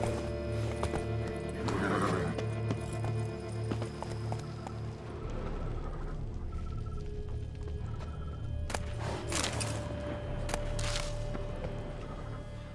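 Roach the horse galloping in The Witcher 3, rhythmic hoof clip-clops with a whinny near the start, then continued hoofbeats and clattering under game ambience, fairly close and steady.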